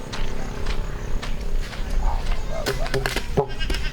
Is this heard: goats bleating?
yes